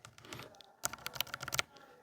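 Keys clatter on a mechanical keyboard fitted with Akko Rosewood switches, in a mixed-switch build. A soft patter of keystrokes comes first, then a quick, busier burst of typing up close, with no talk.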